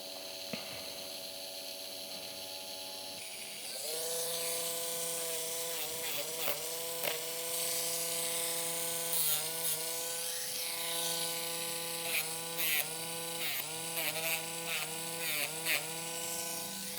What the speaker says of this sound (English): It takes longer to grind when it's at a lower level,